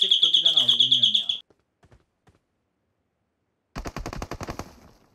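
Automatic gunfire in the mobile battle royale game PUBG Mobile: a rapid burst of about a dozen shots, a pause with faint clicks, then a second denser burst of shots near the end.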